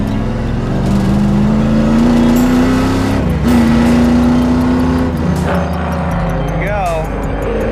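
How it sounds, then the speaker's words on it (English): A street-legal stock car's engine roars loud and steady as it drifts near a wall, the revs rising and briefly dipping before climbing again, with someone speaking over the engine. "Oh, drifting, pointed at the wall."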